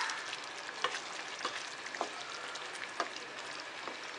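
Coconut and coriander paste being stirred into frying white pea gravy, a soft continuous sizzle broken by a few faint spoon scrapes.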